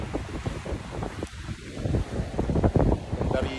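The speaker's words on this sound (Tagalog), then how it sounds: "Ayun, ang lakas ng alon ng dagat, oh. Kita nyo. Malakas pa yung hangin." Strong wind roaring against the microphone at the seashore as rough sea waves surge and crash, a loud continuous broadband rush with gusty swells.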